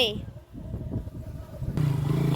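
A motorcycle pulls up close by, its engine rumbling and then settling into a steady idle hum, heard under a person speaking.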